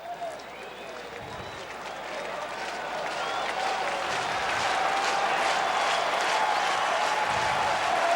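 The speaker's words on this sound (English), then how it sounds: "The crowd chanting for strikeout number 14." A baseball crowd at Turner Field in Atlanta, Mets at Braves, roars and chants for a strikeout, a broad rising wash of cheering and clapping that grows louder throughout, with a broadcaster's voice faintly underneath.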